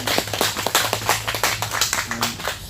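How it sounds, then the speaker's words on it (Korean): A church congregation at a Sunday morning Korean worship service claps in a steady, fast rhythm, many hands together filling the room with a bright, even patter. "우리 하나님께 영광의 박수 올려드립니다"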